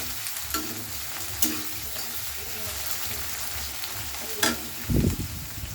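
Onion and garlic fry in a pan with a continuous sizzle while a spatula stirs, making repeated scrapes and a heavier knock near the end, up close.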